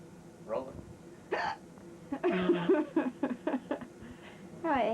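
Several sharp, voiced hiccups from people aboard a Bermuda cruise, each a short gulping burst. They come in a loose irregular series close to the microphone, with a few quicker catches packed together midway.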